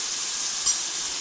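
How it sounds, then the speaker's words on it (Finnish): Reindeer meat slices fry in a pan with a steady, even hiss of sizzling fat, close and continuous, with a faint scrape as the pieces are turned. "Tätä lihapalaa käännellään tässä pannussa paistamisen aikana"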